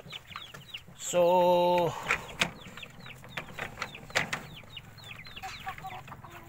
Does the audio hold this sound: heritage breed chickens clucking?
yes